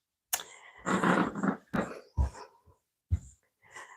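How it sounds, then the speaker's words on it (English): Puppies whimper, sniff and breathe up close in a series of short bursts separated by brief silences, with faint rustling and clicks. "Hi, puppies. Here's the puppies."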